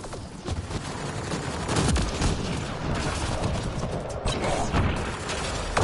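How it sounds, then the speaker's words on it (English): Enemy gunfire rattles through a Mass Effect Andromeda firefight, dense overlapping shots and bursts blending into a continuous loud barrage with scattered sharper cracks. "What are they shooting at us for?"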